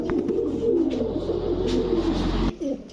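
Belgian-blood racer pigeons coo close up in a loud, continuous, throaty rolling burble that drops away abruptly near the end.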